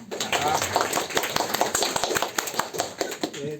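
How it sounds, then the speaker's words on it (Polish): Audience applause at a Polish awards ceremony for artistic achievement scholarships, a dense sustained clapping from a crowd, steady throughout with a voice speaking over it. "Też brawa dla nich może, nie?"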